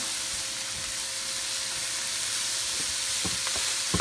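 Chopped vegetables for homemade egg roll filling fry in a pan with a steady, close sizzle and hiss, a few sharper crackles and stirring scrapes toward the end.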